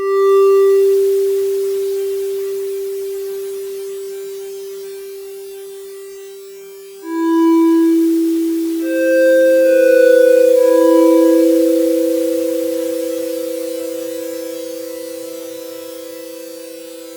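Sustained Yamaha-style FM synth tones, compared between a Korg Kronos 3 Mod-7 and a YM2612-based DAFM Genesis, hold steady with clean harmonics, then a new set of tones enters and slowly fades away in a smooth, lingering release.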